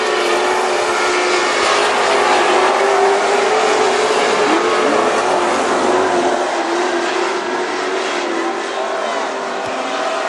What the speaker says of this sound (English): All of these cars headed to the main event this evening in the Super Stocks Heat 2 and 3 will be coming out on the racetrack next